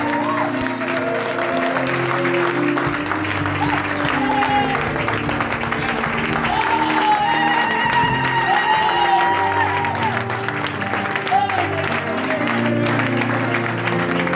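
Congregation at a French-language church service applauding and cheering loudly and steadily, with whoops and a voice speaking over the crowd throughout.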